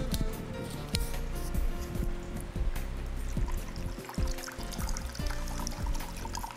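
Vinegar poured into a bowl in a kitchen where a seafood and steak dinner is being cooked, a steady close trickling stream with faint background clatter.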